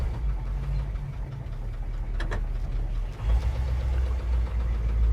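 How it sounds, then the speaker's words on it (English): A 1971 Chevrolet C10 short-bed utility truck idles steadily with a low, constant engine rumble and audible knock, growing slightly louder after about three seconds, with no talking. "Engine knock and all, baby."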